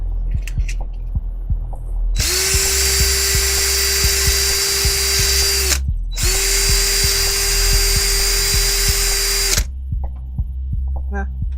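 Two long steady whines from a small rotary tool deburring the edges of a 3D-printed part, each lasting a few seconds with a brief gap between, close and loud over a faint low thumping background.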